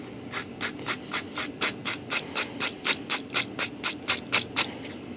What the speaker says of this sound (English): I might take and sand that down just a hair